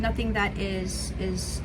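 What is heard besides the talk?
No distinct noise like a dog, phone or traffic.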